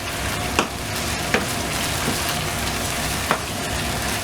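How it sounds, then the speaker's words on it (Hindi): Fresh garlic and ginger paste sizzles steadily in a hot pan for a chicken curry, with a few sharp spoon scrapes as it is stirred, and no talking. "इसमें ये फ्रेश गार्लिक और जिंजर का पेस्ट है। पकाएंगे, इसको मिक्स करेंगे अच्छी तरह।"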